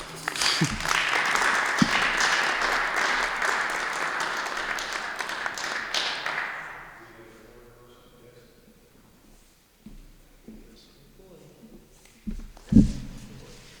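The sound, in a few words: audience applause for a poetry reading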